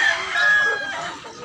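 A rooster crows loudly and close by in one sustained call at a Cebu poultry sale, with the crow filling the whole moment and no talk over it.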